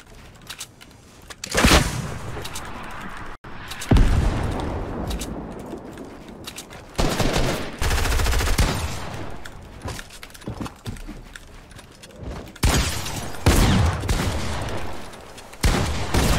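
Video game gunfire sounds as loud bursts of shots separated by quieter stretches, with sharp cracks and sustained volleys recurring through a long passage.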